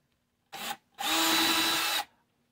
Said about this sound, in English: I just finished drilling all the holes!